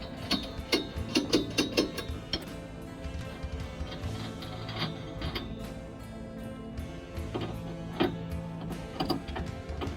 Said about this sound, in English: He's tightening up the nuts.